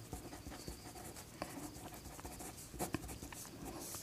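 Pen scratching across paper while a Class 10 maths solution is written out, a soft continuous scratchy rubbing with small stroke accents, faint and close with no talk.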